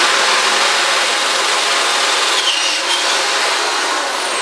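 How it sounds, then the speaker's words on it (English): A larger drill bit reams out a pilot hole to size under light pressure, giving a steady, loud broadband grinding whir that runs unbroken throughout. "now we can come back in with the bigger drill and drill it out to size"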